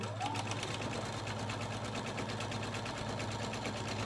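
A sewing machine fitted with a quarter-inch foot runs a continuous chain-pieced seam on quilt pieces, a steady fast whirring stitch, close and moderately quiet, with no pauses.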